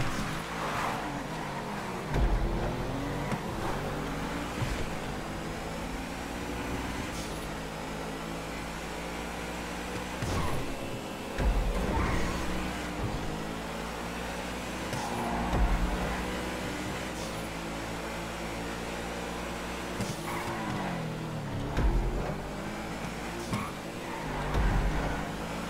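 Comet and 9F sports cars race around a Grand Prix circuit in GTA V, engines droning and revving continuously, with repeated surges of acceleration and shifting pitch as they pass.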